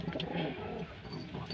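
A Pakistani pigeon gives soft, low cooing, close by and alone for a brief moment.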